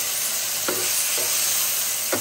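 Onion and tomato frying in a pan, a dense continuous sizzle with a few short scraping stir strokes, close and steady, no voices.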